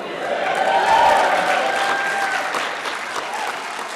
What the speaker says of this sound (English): Don't applaud now, you're setting a high bar.